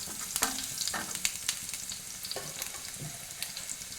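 Steady sizzling of sliced shallots frying in hot coconut oil, with scattered crackles and a few light clinks of a utensil stirring the pan.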